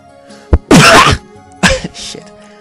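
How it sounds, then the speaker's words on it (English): A video game character sneezes once, loud and explosive, nearby, preceded by a sharp intake of breath and followed by a short second burst and faint breathy sounds. "I gotta sneeze"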